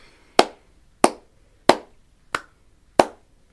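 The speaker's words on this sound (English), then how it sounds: "we're just going to clap to start off with." Hands clapping five times at an even, steady pace, each clap sharp and close, with silence between them during a music tutorial warm-up.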